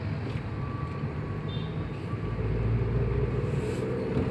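A Daihatsu Xenia drives at low RPM in a high gear, a steady low engine rumble with road drone from inside the cabin and no talking.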